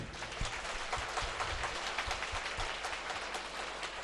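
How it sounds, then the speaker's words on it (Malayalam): A church congregation at a healing service claps together in a dense, continuous patter of many hands, fairly faint and distant, with no speech over it. "നല്ല ഒരു കൈയടി കർത്താവിന് കൊടുത്തേ"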